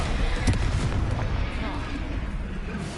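Confringo fire spell blasts in Hogwarts Legacy, a dense booming burst with sharp impacts around the first second, then a rumbling wash that fades slightly over three seconds, with crackling layered on top.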